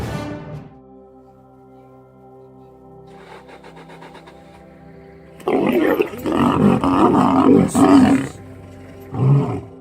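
An angry lioness, woken abruptly, roars while charging at a lion: one loud roar opens, then a quieter rumbling lull before a burst of loud, harsh snarling roars, and a final growl close up.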